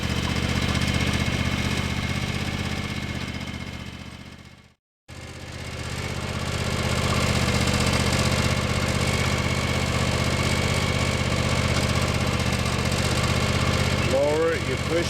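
A 2020 John Deere X390 riding mower engine runs at a steady idle, close and loud, with a constant low droning hum, a brief dropout midway, then the same steady running.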